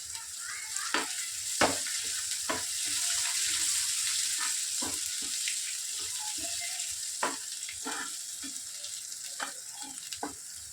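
Ginger garlic paste fries in a pan with a continuous close sizzle, broken by intermittent scraping stirs and light clinks of a utensil, no voices present.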